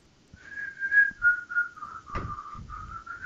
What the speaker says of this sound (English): If you hear that whistling in the background,